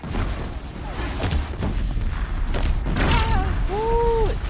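Explosions in the Horizon Zero Dawn video game, deep booming blasts and rumbling thuds in a loud battle mix, with sweeping electronic tones at the close.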